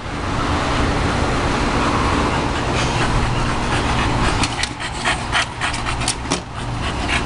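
A dog pants close by in quick, rhythmic breaths, with road traffic noise humming in the background.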